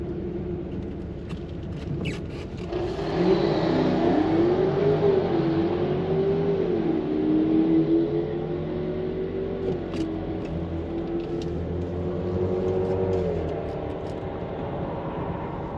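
A Jaguar F-Type and a Skoda Octavia VRS race down the Santa Pod drag strip, a steady droning engine note rising and holding as the cars accelerate, fairly close and loud without talk.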